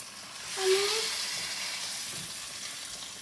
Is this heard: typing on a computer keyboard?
no